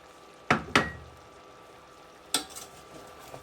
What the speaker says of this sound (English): We're going to stir it to combine everything that we just added.